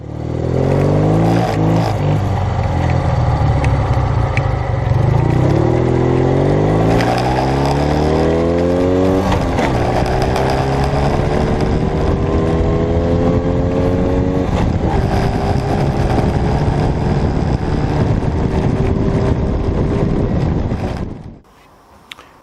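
A 1955 BMW R50 motorcycle's engine roars close and loud, rising and falling through several revs with a rough low rumble and some wind buffeting, then cuts off abruptly near the end.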